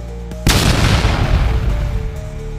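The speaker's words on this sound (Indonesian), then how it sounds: "Ledakan cahaya emas memenuhi area." A loud explosion effect for a golden blast of light in a fantasy sword-fight audio drama bursts in suddenly and then rumbles and hisses on for about two seconds, with no voices.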